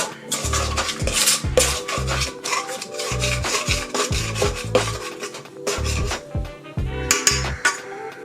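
A utensil scraping and clinking in a bowl while sauce with light soy is mixed for sweet and sour pork, rapid rhythmic rasping strokes, loud and close with no talk.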